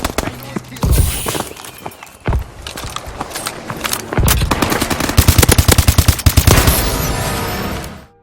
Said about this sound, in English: for like the typical Hitmarker sound that you think of when you think of Call of Duty